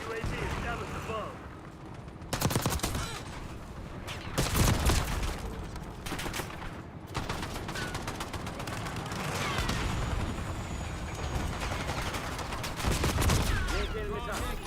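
A light machine gun in a multiplayer shooter game firing sustained loud bursts, with dense overlapping gunfire and explosions throughout and voices talking over the action.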